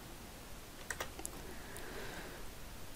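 Soft, brief keystrokes on a computer keyboard, a few quick clicks in a short burst, faint and close in a quiet room with no talking.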